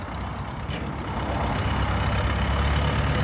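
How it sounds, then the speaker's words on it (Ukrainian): A Xintai 454 four-cylinder four-wheel-drive 45-horsepower tractor engine running at a steady idle, a continuous low rumble with no talk over it. "Сінтай 454, 45-ка, 4-циліндрова, повноприводна з примусовою навіскою."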